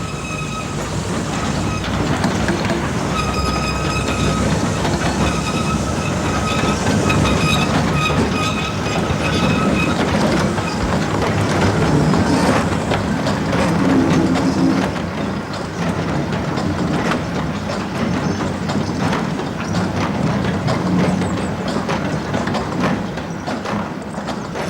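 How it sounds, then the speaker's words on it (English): A 1951-built electric colliery locomotive hauls a train steadily past at close range, with rhythmic wheel clatter and a bright whine from the locomotive running the whole way. "1951-built number 12 takes the train into Hilda Tunnel on the short electrified section"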